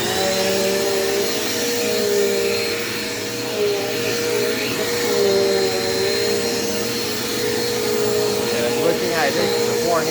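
A Dirt Devil Quick Power vacuum cleaner runs steadily and loudly throughout, its motor whine holding a constant drone with slight shifts in pitch as it moves.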